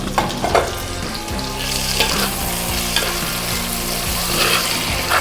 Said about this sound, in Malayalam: ഒരു തക്കാളി അരിഞ്ഞുണ്ട് അതുകൂടെ ഇതിലൊട്ടൊന്ന് വയറ്റിയെടുക്കും